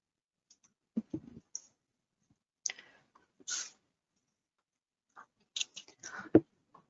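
Sharp mouse clicks made while working in structural engineering software for an aluminium-profile industrial tent, arriving as scattered short clicks and small clusters over a quiet background with no talking.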